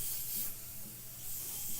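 Spray gun laying down candy paint, a soft, steady airy hiss with gentle pulses as the gun passes, close and moderate in level, alone without speech.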